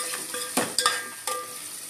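Four onions with salt fry in a pan for a prawn curry, giving a low sizzle broken by a few sharp clinks and scrapes of a utensil against the pan, close with no speech.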